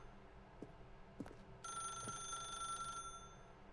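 A telephone rings in The Stanley Parable, a steady electronic bell tone with bright harmonic lines that sounds continuously for over a second after a few soft thuds and clicks, fairly close and clear with no talking.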